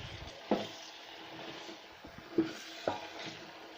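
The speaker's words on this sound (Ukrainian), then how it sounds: "поки місць отак обжарюється у мене цибулька" Chopped onion fries quietly in a pan for a winter rice salad, a soft steady sizzle broken by a few sharp clinks of a utensil against the pan.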